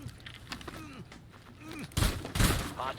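Gunfire striking the player in Rainbow Six Siege, a couple of short, punchy impact bursts near the end after quieter game sounds and faint chatter.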